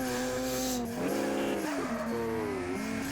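Car in the arcade street racing video game Street Racing Syndicate, engine revving up and down through gear changes with a brief tire squeal, loud and close throughout.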